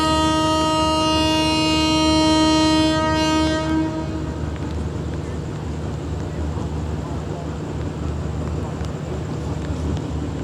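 A train horn blares with a steady tone for a few seconds, then cuts off, leaving loud continuous rumbling and rattle of a Thai express passenger train departing Bang Sue Junction in rain.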